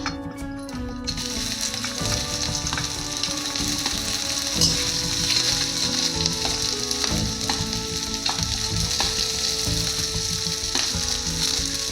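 Onions sizzle and fry steadily in hot oil in a pan for chicken curry, a dense continuous crackle with faint stirring, close and fairly loud, with no voices.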